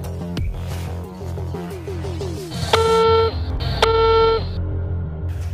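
Phone call tone on a mobile: a short run of dial beeps, then two sustained electronic ringback tones, each lasting about half a second to a second, clear and close.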